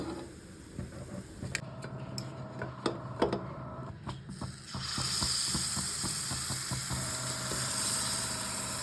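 Ragi batter sizzles in a hot paniyaram pan: scattered clicks and taps first, then a steady, fairly loud hiss fills the second half.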